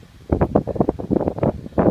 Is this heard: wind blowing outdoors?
yes